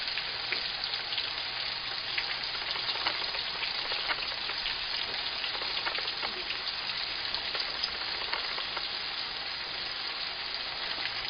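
Ruffed grouse bites seasoned with paprika and sage frying in oil kept at high temperature, a steady, dense crackling sizzle that holds evenly throughout with no talk over it.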